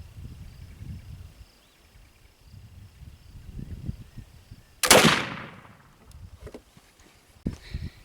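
A single sharp black powder gunshot cracks out midway, loud and close, followed by a trailing decay, with quiet rustling and handling noises before and after.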